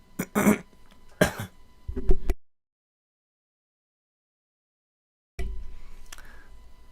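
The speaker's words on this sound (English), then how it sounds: "sorry about all the hacking and coughing" Two harsh coughs followed by a low throat clearing in a quiet room of an old house, close and fairly loud, then a long silence before a faint rustle.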